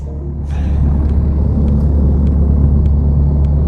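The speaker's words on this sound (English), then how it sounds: "We'll just taxi to the holding point now." Piper PA28 Warrior light aircraft engine taxiing toward the holding point, a steady loud low rumble heard from inside the cabin, with faint clicks over it and no talk.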